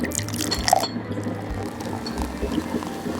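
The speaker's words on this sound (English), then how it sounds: "we're going to do the 4 ounces of milk first" Milk, about four ounces, poured at home for a Starbucks-style shortbread mocha, a steady continuous liquid pour lasting a few seconds at moderate level with no talking.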